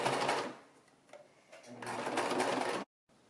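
A sewing machine stitches a quarter-inch turned-under hem on a baby romper, running in two close bursts with a brief pause between them before stopping abruptly.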